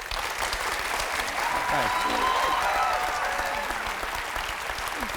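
Audience applause for an actor during a National Theatre interview, a steady dense clapping wash that fills the whole clip, with a brief spoken word of thanks over it.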